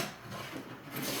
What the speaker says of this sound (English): you can see here that hand planing is no problem in this vise either